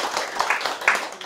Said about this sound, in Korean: 다시 한번 시장님한테 한번 큰 박수 한번